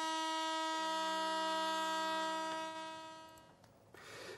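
Ships' horns blare in long sustained tones during a wreath-laying ceremony at sea honouring dead sailors, a deep steady chord that fades toward the end.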